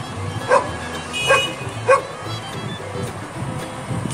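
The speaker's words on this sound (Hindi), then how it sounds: "देख सकते हैं, ये मुझको देखकर भौंक रहा है," A dog barks at a nearby stranger outdoors near a pond by a railway station, three sharp barks spaced about half a second apart, then quiet background.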